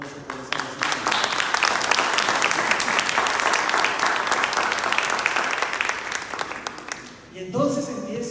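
A lecture audience breaks into loud, sustained applause, many hands clapping in a dense roar that fades near the end as a voice resumes speaking.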